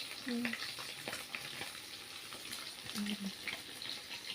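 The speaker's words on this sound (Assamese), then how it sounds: "এয়া মাছ ফ্ৰাই কৰি আছে" Fish frying in a pan in a home kitchen gives a soft, faint sizzle with scattered light clatters and brief tonal scrapes, fairly quiet throughout.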